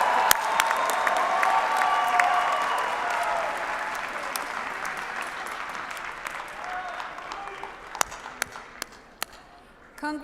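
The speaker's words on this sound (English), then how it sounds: "And let's hear it for the cheering crowd in the front." Crowd at a university fall commencement ceremony claps and cheers loudly and steadily, the applause slowly thinning toward the end with a few sharp isolated claps and whoops standing out.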